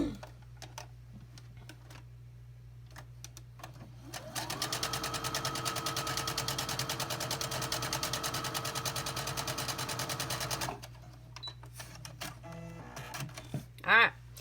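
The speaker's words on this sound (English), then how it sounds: "I'm going to sew down here." A sewing machine stitches quilt block fabric, a fast even whir of needle strokes starting after a few quiet seconds, running steadily for about six seconds, then stopping, followed by a brief louder bump.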